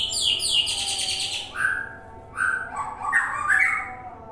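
White-rumped shamas in a breeding cage chirp and whistle nearby, with a burst of rapid high tweets followed by varied warbling calls over a low background hum.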